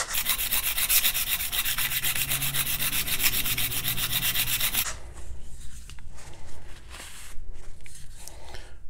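A steel card scraper is rubbed flat across a dead-flat sharpening stone, giving a steady, close, rhythmic rasping scrub for about five seconds, then quieter, intermittent scraping strokes.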